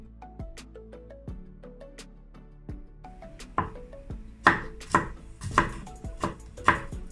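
Knife chopping garlic on a cutting board, sparse single taps at first, then quicker, louder, irregular chops close by, with no speech.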